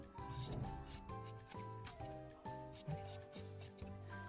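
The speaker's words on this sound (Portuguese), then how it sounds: "Vou cortar aqui todo o excesso." Scissors trimming excess fabric from a sewn diaper holder, heard as close, repeated rhythmic snipping and rubbing strokes, about one every half second, fairly quiet and with no talk over them.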